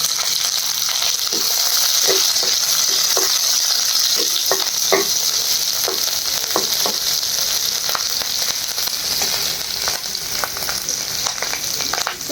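Bay leaves, cumin and green chili frying in hot oil with lightly browned onion for a shing fish curry, giving a steady, close, loud sizzle with scattered soft ticks and clinks and no talking.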